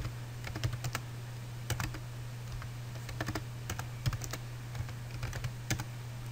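Keys clack on a computer keyboard in quick irregular bursts of taps with short pauses, close and fairly quiet over a low steady electrical hum.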